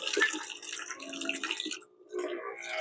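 A sprayer pump motor is switched on to purge air, with water spurting and gurgling through the line in uneven bursts, close and fairly faint, pausing briefly before flowing again.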